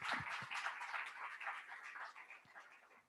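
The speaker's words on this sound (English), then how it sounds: "Let's give him a wonderful round of applause." A steady, fairly quiet wash of audience applause at an event, dense overlapping claps sustained for about three seconds and tapering slightly toward the end.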